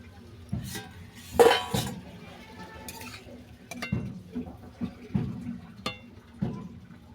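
Boiled elephant foot yam pieces lifted out and rinsed in clean water, close clinks and clatter of a metal pot and utensils in scattered bursts with faint water sounds under quiet stretches.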